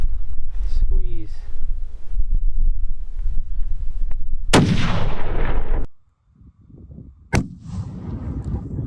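A rifle shot at a mule deer during a Nevada hunt cracks sharply and loudly, then rumbles away as it echoes. Quiet talk comes before it, and a second, fainter crack follows a few seconds later.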